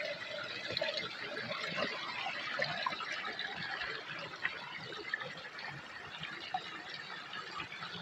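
A river flows steadily at an eerie, remote spot in the hills, a continuous broadband rush of water with no pauses, close and moderately loud.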